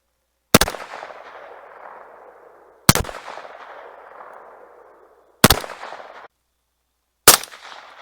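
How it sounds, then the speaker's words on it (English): Four sharp gunshots from a Kel-Tec P50 pistol, some unsuppressed and some fitted with an Anechoic AnexchoX22 silencer. They come about two to three seconds apart, each a loud crack followed by a lingering, decaying ring, with no talking. "We're going to try some unsuppressed shots and some suppressed shots."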